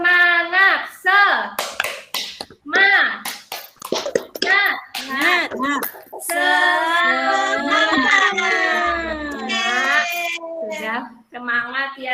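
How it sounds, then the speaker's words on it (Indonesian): Children in a classroom perform tepuk semangat, loud voices chanting in unison broken by short bursts of sharp rhythmic hand claps in patterned groups. "marilah kita tepuk semangat ya"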